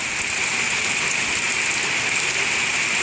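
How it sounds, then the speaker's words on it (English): Heavy rain pours down steadily during a storm in Pennsylvania, a loud, dense, continuous hiss of water hitting surfaces with no break and nobody speaking. "It is downpouring here in Pennsylvania."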